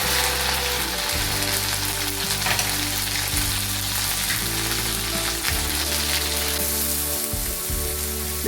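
Finely chopped onions fry in a hot kadai, giving a loud, continuous sizzle and crackle close by, with a steady low hum underneath and no voices.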